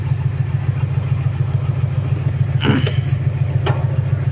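A tractor engine runs at a steady low idle with a throbbing hum, and two brief clattering knocks sound near the end.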